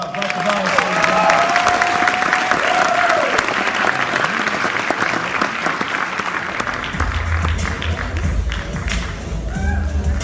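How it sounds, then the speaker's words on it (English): Audience applause for a student team at a 2015 JA pitch competition, a dense, loud burst of clapping filling the room and holding steady before thinning out toward the end. "Let's give them a round of applause"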